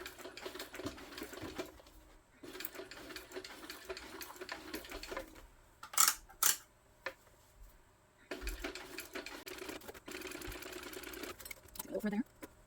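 A sewing machine stitches over the thick handle of a tote bag, running in rapid mechanical bursts separated by pauses, with a few sharp clicks and a person talking between runs.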